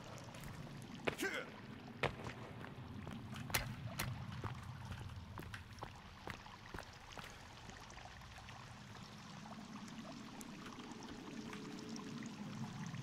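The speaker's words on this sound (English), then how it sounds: "This incredibly loud sound of water in this corner over here." Loud, steady rush of running water from a corner of a cave-like space in Sons of the Forest, a continuous low roar with scattered sharp clicks and knocks over it, heard alone without talking.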